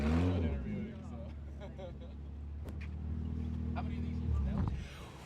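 A race car passes nearby, its engine a steady loud drone that swells and then fades after several seconds.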